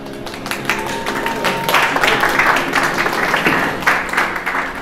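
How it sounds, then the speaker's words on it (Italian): An audience applauds continuously, a dense crackle of many hands clapping at a steady level throughout, with a faint voice underneath. "la gente applaudiva proprio come applaudite voi adesso"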